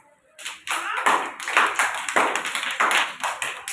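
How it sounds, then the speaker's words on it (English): Young children at an Anganwadi preschool clap their hands together in a quick uneven rhythm, roughly seven or eight sharp bursts, close and fairly loud, with no talking. "Claps."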